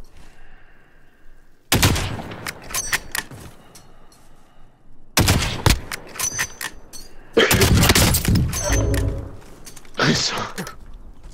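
Gunfire in the video game Warzone: several loud bursts of rapid automatic fire and sharp single shots come in clusters with short pauses between them, while a player talks over parts of the action.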